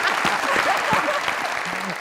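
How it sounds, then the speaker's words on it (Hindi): A television talk-show studio audience breaks into brisk, dense applause, with a few voices audible through the clapping. "जरा तालियां।"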